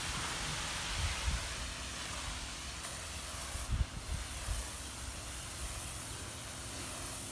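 A lawn sprayer lays down a fish and molasses mixture in a steady hiss of fine spray that runs the whole time, fairly faint and even, with a couple of low bumps underneath.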